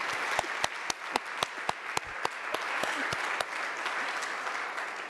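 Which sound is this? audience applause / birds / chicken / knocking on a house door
audience applause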